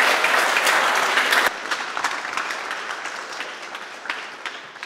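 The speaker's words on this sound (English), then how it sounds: "Let's have a round of applause for Steve." An audience at a ZBrush sculpting workshop applauds after a talk, loud dense clapping for the first second and a half, then continuing more loosely and gradually thinning out.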